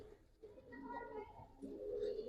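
Pigeons at a Giribaz and coloured pigeon farm coo softly in low, rolling murmurs, several overlapping calls close by, with faint voices in the background.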